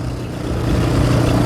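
A Yamaha 700 Raptor quad runs with a steady low engine drone that holds even and loud, swelling slightly partway through, with no voices over it.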